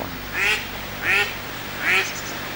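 Three separate duck quacks, evenly spaced about a second apart, fairly close over a steady outdoor background hum.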